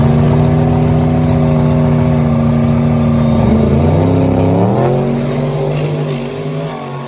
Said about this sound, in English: we headed out to Elk Creek Dragway after we got the car fixed, and got to run against Joe Nestor